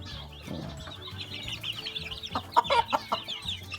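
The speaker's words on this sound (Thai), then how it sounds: "อันนี้ก็เป็นไก่ดำกับเล็กฮอน แล้วก็ไก่ชนนะครับ" A flock of black chickens, Leghorns and a few fighting cocks cluck on a small farm, with a burst of quicker, louder clucks toward the end over low background noise.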